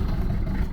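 Diesel engine of a 1982 Mercedes 240D W123 with a 3.0 turbo, idling slightly high with no throttle, a steady low rumble, close and even for a brief moment.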